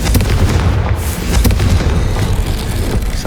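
A Confringo blast spell bursts in Hogwarts Legacy, a loud, dense booming explosion with repeated concussive hits rolling steadily through the whole stretch, no talk over it.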